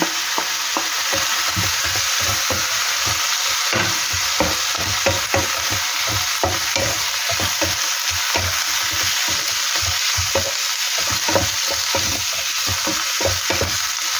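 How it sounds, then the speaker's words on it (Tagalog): Vegetables sautéing in a pan with meat, a loud continuous sizzle broken by rapid, rhythmic scraping and clatter from a utensil stirring close up. "Kapag po sangkot siya na yung ating karne, ilagay na natin yung ating gulay."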